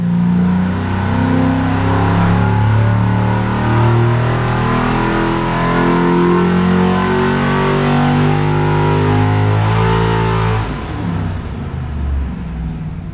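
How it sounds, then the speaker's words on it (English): A 1957 Ford Mark II Continental engine, originally 368 cubic inches and bored and stroked to 383, runs loud and close with a steady, throbbing mid-range roar and slight revving, easing off briefly near the end. "It's a 1957 out of a Mark II Continental, which was a custom-built engine by Ford for 2 years in 56 and 57."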